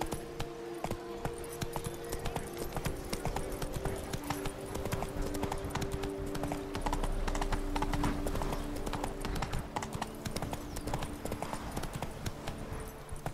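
Roach the horse galloping in The Witcher 3, fast, steady hoofbeats that continue throughout alongside a low, constant hum.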